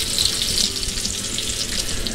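Bacon frying in its grease in a pan, nearly crispy, giving a steady close-up sizzle with fine popping crackles throughout and no speech.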